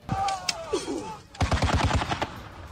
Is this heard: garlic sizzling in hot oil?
no